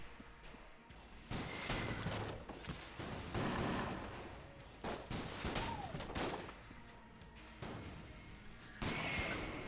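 Gunfire and rocket blasts from the twin-stick shooter Enter the Gungeon, loud bursts of shots and crashing hits in clusters with short gaps, a rising whistle-like effect midway.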